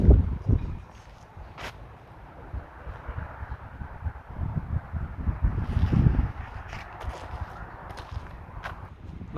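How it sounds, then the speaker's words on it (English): Outdoor wind on a disc golf course, a low rumbling buffet against the microphone that swells and gusts unevenly, with scattered rustles and thumps, no voices. "the wind is picking up"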